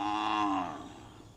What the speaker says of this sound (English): The cow.